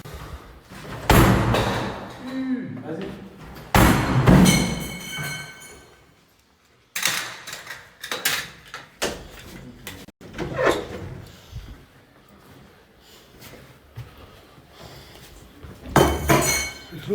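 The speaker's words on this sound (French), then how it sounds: "Qu'est-ce qu'on fait? On pète la porte?" A door is forced open with repeated loud slams and heavy thuds, some with a rattling, glassy clink, arriving in bursts separated by short pauses and muffled movement.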